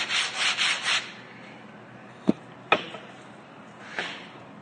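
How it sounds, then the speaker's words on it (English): Sandpaper rubbed by hand across a rustic wooden entryway tabletop in several quick, close rasping strokes, followed by a couple of sharp knocks and a softer scrape. "Do not sand too much on the corner."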